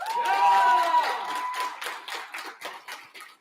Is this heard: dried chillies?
no